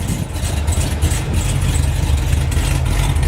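A Cadillac CTS-V running E85, with a stock exhaust and no catalytic converters, idles loud and close with a deep, steady, rumbling burble.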